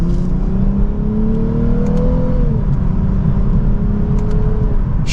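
A 2024 Lexus IS350 F Sport accelerates hard in second gear, its engine note climbing steadily as a loud, continuous roar heard from inside the car, then easing slightly near the end, with no talking.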